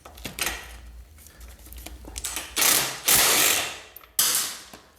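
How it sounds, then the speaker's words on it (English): A ratchet fitted with a swivel and extension loosens bolts on a Kawasaki ZX10R, giving close mechanical clicking with several louder bursts of rapid ratcheting and no talking. "start removing the 3 bolts that are holding down the original plates"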